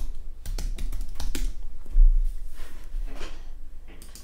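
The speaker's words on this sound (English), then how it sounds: "type in PyCharm, space EDU, and then download" Typing on a computer keyboard, close and distinct, with rapid irregular keystroke clicks in bursts and a heavier press or two.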